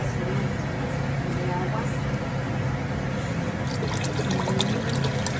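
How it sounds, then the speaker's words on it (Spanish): Water poured steadily into a cooking pot while preparing esquite, a continuous splashing fill that runs the whole time, with a faint voice in the background. "es 1 litro de agua, es 1 litro, ahorita le voy a poner yo creo como unos 3 litros"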